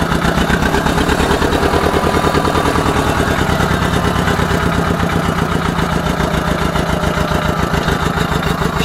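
Ursus C 325 tractor engine running warm with a plough raised, a steady, loud, evenly pulsing diesel chug throughout with no voices.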